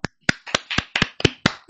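Sparse, uneven hand claps from a few people, about eight distinct sharp claps spaced irregularly, close and clear with no talk, greeting volunteers at a festival.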